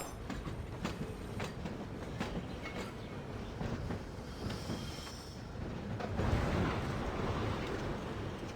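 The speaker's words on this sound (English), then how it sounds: "we are supposed to be going to the Bridge of Mists on the tram" A tram ride in the video game Syberia The World Before, with steady rolling rail rumble and rhythmic clickety-clack, swelling louder near the end, with no talking.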